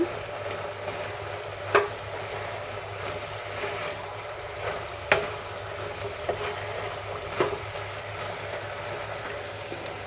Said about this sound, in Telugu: ఇప్పుడు మనము గరం మసాలా వేసుకుందాము సరి కలుపుకుందాము